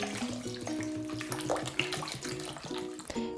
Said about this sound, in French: Et l'on termine par 1 litre d'eau.